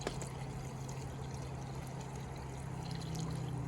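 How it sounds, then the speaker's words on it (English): Water pours steadily and continuously into a pot of posole verde holding submerged pork shanks, a close, even rushing flow with no talk. "I'm just going to fill the rest with water."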